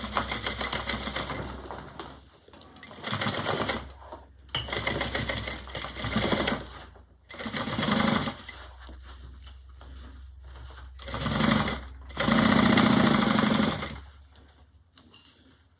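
A sewing machine sews seams on a Destiny Bag in a series of short, fairly loud bursts. The bursts are broken by pauses and light clicking, rattling handling noise.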